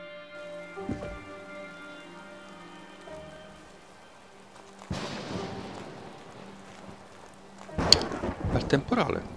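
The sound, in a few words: thunderstorm in the video game Old Man's Journey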